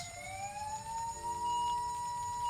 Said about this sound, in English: I could hear the sound of distant sirens.